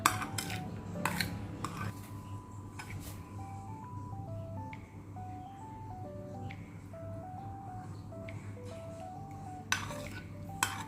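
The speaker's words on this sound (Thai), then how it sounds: "คราวนี้เราคนให้เป็นเนื้อเดียวกัน แค่นี้เราก็ได้ซอสหม่าล่าค่ะ" A spoon stirs homemade mala sauce with white sesame in a bowl, giving soft scraping with a few sharp clinks against the bowl. A gentle melodic tune plays in the background.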